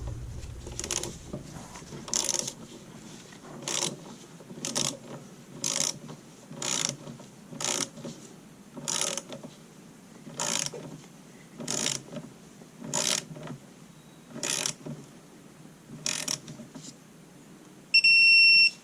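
Torque wrench tightening cylinder head bolts on a 2014 Dodge Charger Pursuit, a steady series of about a dozen evenly spaced ratcheting clicks up close, ending with a sharper final click.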